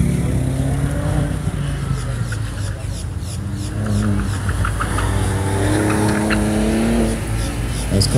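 An autocross race car, number 60, revs hard and roars past the finish line at a Central Florida SCCA event, a loud sustained engine note rising and falling with an announcer talking over it.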